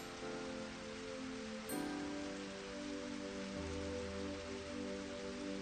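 Rain falling in the visual novel SINce Memories Off the starry sky, a soft, steady patter of drops under sustained background music tones, faint and continuous with no voices.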